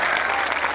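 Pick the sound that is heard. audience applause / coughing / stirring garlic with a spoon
audience applause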